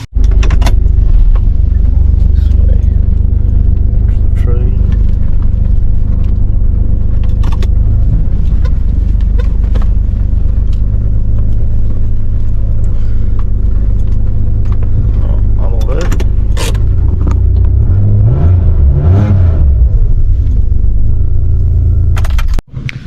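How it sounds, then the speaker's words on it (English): A Rodeo vehicle idles and moves with a steady low engine rumble close by, with mechanical clunks and a brief rattle near the end before it cuts off abruptly. "so now I'll bring the Rodeo around to here"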